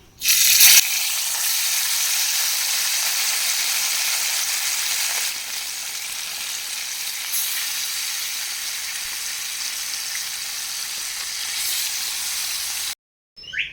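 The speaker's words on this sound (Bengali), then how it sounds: "এই তেলের মধ্যে বাদবাকি মাছগুলো ভেজে নেব" Fish fries in oil in a pan with a loud, steady sizzling hiss that runs almost unbroken for over ten seconds, a brief clatter at the start and a short gap near the end.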